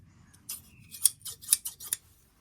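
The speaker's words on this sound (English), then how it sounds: "I picked up a pair of old scissors." An old pair of Sheffield-made scissors being handled, giving a few quiet, close metallic snips and clicks against a near-silent background.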